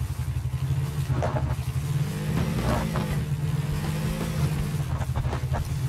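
A car engine in the video game PUBG drones steadily throughout, rising and falling slightly as it drives, with faint clattering on top.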